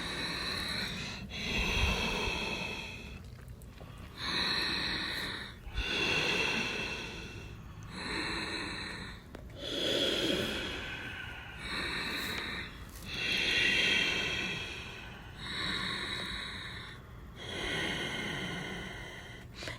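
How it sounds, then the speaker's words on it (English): Loud, audible yogic breathing during an Ashtanga half-series home practice, with long drawn inhales and exhales alternating in a slow, steady rhythm, close and breathy, with no talking. "Breathe, sound breathing."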